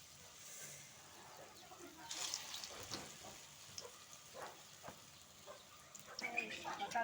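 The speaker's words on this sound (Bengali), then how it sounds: "এখন আমি এগুলো বেসনের মধ্যে দিয়ে দিলাম, এখন তেলের মধ্যে ছেড়ে দেবো।" Egg chops coated in gram flour batter sizzle in hot oil, a soft, steady frying hiss with faint crackles and occasional stirring sounds, fairly quiet and close, with some background voice nearby.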